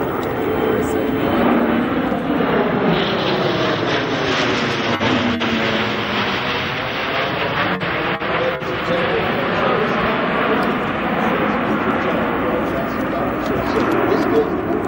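A powerful jet aircraft makes a high-speed pass at about 350 mph during an airshow, its engines roaring loud and continuous, with a PA announcer talking over it throughout and a slow pitch sweep as it passes.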